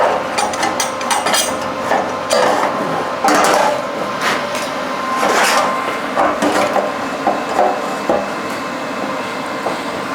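Clamps get gently tightened on metal in a TIG welding shop, giving close, repeated ratcheting clicks and small metallic knocks in irregular bursts, with no talking.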